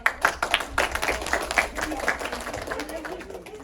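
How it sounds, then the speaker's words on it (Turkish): Classmates applaud a student during a sixth-grade end-of-year school play, a quiet patter of scattered clapping from a small group, with a few sharper claps early, slowly tapering, and children's voices underneath. "Alkışlayın arkadaşınızı."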